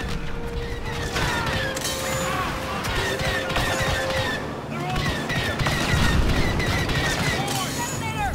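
Blaster fire crackles in Star Wars Battlefront II during a fight to hold stairs and gates. Rapid shots and crashes form a continuous loud barrage, with voices heard under the din.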